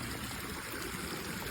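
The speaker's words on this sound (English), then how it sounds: "Oh, that's a pretty waterfall." Water from a small waterfall along a Texas hiking trail pours and trickles steadily, a continuous broadband wash heard close and alone without talk.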